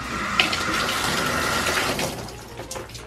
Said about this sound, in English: And then all I do is rinse it in the tub.